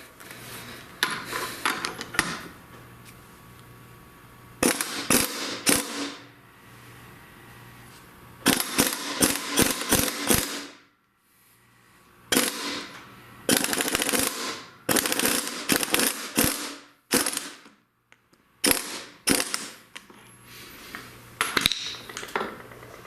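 A gear puller works a part off a GM 9.25 front differential from a 3/4 and 1 ton Chevy or GMC truck, heard as rapid bursts of metallic ratcheting clicks separated by short pauses, close and fairly loud.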